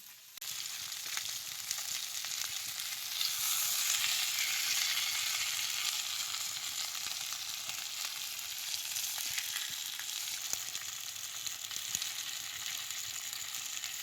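Pomfret fish frying in a pan, a steady, dense sizzle that holds evenly close up for the whole stretch with no voices over it.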